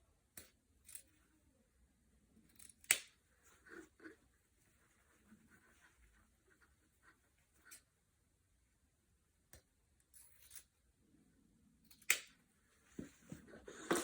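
Scissors snip off excess buffalo plaid ribbon while a bow is being made, giving a series of short, sharp clicks and snips spread across a quiet background, a few louder cuts standing out near the start and end.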